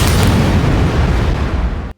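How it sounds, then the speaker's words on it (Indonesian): A loud, dense explosion fills the whole two seconds with a heavy, rumbling roar that cuts off abruptly at the end, with no voices. "terdengar ledakan dahsyat seketika"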